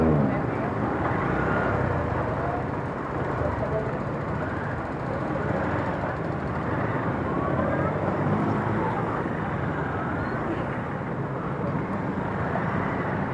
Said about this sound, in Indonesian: Ini guys macet banget sini.